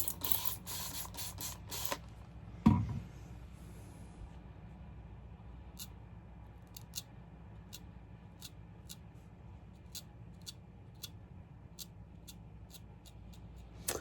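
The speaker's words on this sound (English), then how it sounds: "I think it's funny that everyone calls these bougie sprayers. It's just a sprayer." A spray bottle wetting a sharpening stone gives a few quick, close spritzes at the start, then a sharper knock, followed by a long quiet stretch broken only by faint, evenly spaced light ticks.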